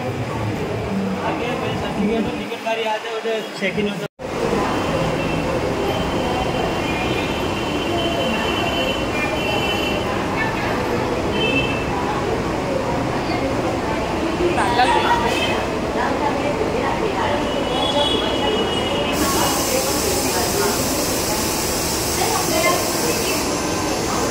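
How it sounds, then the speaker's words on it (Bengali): A train rumbles and rattles steadily into a station near Churchgate, its wheels clattering along the track, with people talking throughout. "ট্রেন আছে মনে হচ্ছে।"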